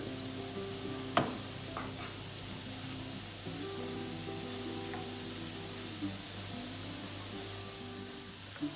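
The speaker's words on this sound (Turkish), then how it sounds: "Böyle iyice karıştıracağız. Tereyağımız iyice erisin." Butter melts and sizzles in a pan for chicken tantuni, a steady soft crackling hiss with a few sharp scrapes of stirring, heard close and alone without talk.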